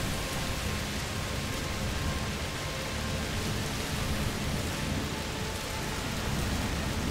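Steady, heavy rain pours through a stormy scene in the video game A Plague Tale: Requiem, a dense unbroken hiss with a low rumbling undertone that could be distant thunder, lasting throughout with no voices.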